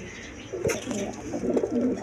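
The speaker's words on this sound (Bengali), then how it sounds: "দেখেন সুস্থ সবল কবুতর।" Pigeons for sale coo in low, rolling calls, several overlapping phrases close by with little else around them.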